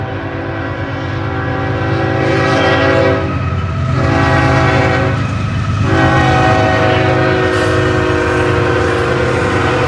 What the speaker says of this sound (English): as soon as this train quits blowing the horn